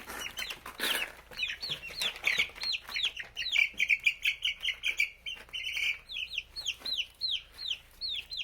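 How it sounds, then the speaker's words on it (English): Buff Orpington chickens chirp and cluck in a steady stream of short, high calls, with a brief rustle early on and no one talking. "this yellow one, is a Buff Orpington"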